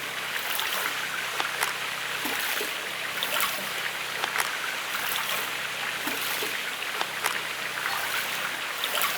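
Running water flows in a gold mining sim video game, a continuous close rushing and splashing with small irregular spatters throughout.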